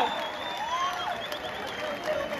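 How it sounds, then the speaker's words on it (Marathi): A crowd at an outdoor Dahi Handi festival applauds in a dense, continuous roar mixed with general crowd noise, with whistle-like tones and voices threading through. "तुमच्या जोरदार टाळ्या."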